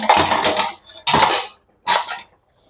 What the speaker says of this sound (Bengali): এরকম অবস্থায় আমি ইলিশগুলো দিয়ে দেবো।